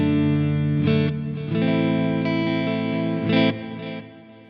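An electric guitar plays a few ringing chords in a clean, full tone through a Quad Cortex with the Nolly X plugin, with delay and reverb adding a shimmering, spacious effect, each chord sustaining before the next, without voices.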